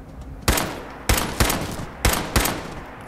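Four sharp gunshots ring out in Fallout 4 combat, each a loud broadband crack with a short decaying tail, spaced irregularly about half a second apart, with no talk over them.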